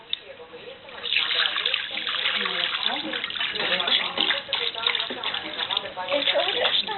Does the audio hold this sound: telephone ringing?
no